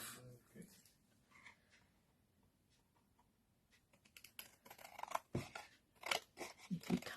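Scissors snipping through card during a card-folding craft demonstration, a few quiet cuts early, then a denser run of louder, crisp snips and rustling card handling near the end, with a person talking faintly in between.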